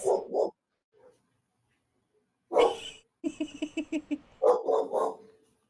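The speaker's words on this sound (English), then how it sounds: "Oh, there's puppies." Puppies bark in several bursts: a pair of yaps, a pause with a faint yip, then a run of quick, high, rhythmic yips and a final cluster of louder barks, close and clear with no talking.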